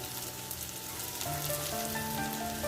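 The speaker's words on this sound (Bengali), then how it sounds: "বরবটি কিছু সময় ভেজে নিয়েছি" Yardlong beans fry in a pan with a dense, even sizzle and crackle, heard up close and steady throughout with no voices.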